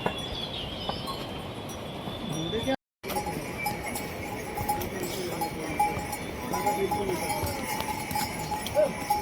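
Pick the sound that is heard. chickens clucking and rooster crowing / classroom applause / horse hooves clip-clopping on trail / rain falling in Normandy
horse hooves clip-clopping on trail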